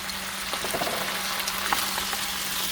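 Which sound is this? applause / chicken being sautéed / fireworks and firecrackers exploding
chicken being sautéed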